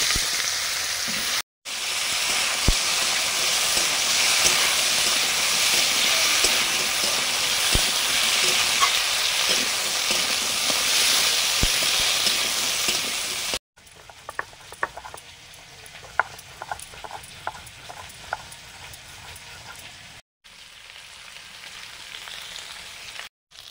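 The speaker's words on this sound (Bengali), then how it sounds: "পাঁচ ফোড়ন, ঝাল চচ্চড়ির আলু ফোড়নের সঙ্গেই ভেজে নেব।" Potatoes fry in oil with five-spice tempering for jhal chorchori, a loud steady sizzle that drops to a quieter crackle with scattered pops and stirring clicks in the latter part.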